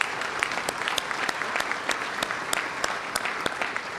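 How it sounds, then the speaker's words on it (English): A banquet audience claps steadily at a scholarship banquet, a dense, even patter of many hands with a few sharper claps standing out, and no one speaking over it. "Let's just give a quick round of applause there."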